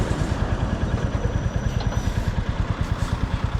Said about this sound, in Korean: 처음 올라탄 2기통 엔진